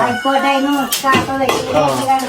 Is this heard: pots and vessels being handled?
yes